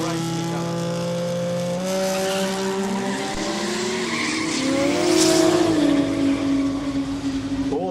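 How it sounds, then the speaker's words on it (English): Two Toyota Supras, an MA70 and a JZA80, launch in a no-prep drag race at Kooralbyn Valley, tyres squealing and engines rising in pitch as they pull away, loud and close. "A pair of Supras racing each other."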